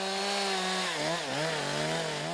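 Chainsaw trimming branches off felled trees at a snowy Siberian logging site, a loud, sustained whining drone that dips and rises in pitch as the blade bites into the wood.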